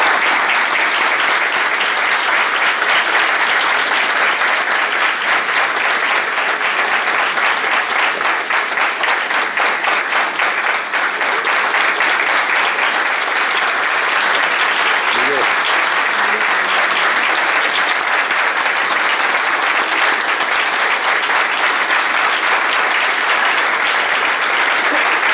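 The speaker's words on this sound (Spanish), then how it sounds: "estoy muy emocionado con sus aplausos," Audience applause fills a hall at a political talk, dense sustained clapping from a large crowd that stays loud and steady throughout with only slight swells.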